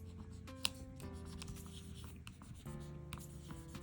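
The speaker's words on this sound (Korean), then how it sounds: "스티커 붙인 데 한 번씩 긁어줄게요." Applied stickers on a decorated journal page are scratched and rubbed down, giving a quiet, continuous scraping with a few light taps, close and alone.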